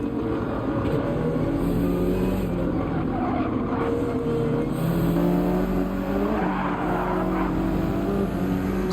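A Subaru BRZ race car in Gran Turismo 7, racing in rain at Dragon Trail Gardens, with a steady, loud engine drone and shifting pitch bands throughout as other cars run nearby.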